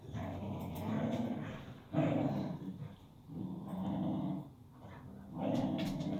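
Two dogs, one a pit bull mix and the other apparently a Cane Corso, growl continuously at close range while playing, the rumbling rising and falling in several loud bursts with no talking.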